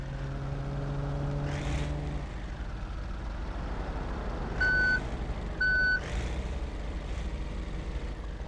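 In the BeamNG driving game, a truck idles with a low steady engine rumble, and two clear reversing beeps sound in succession partway through. An earlier tonal hum fades out. No one speaks.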